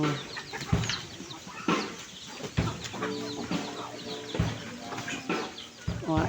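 Native chickens cluck and squawk repeatedly at close range in an irregular, overlapping chorus, with several sharp bursts between softer murmuring calls.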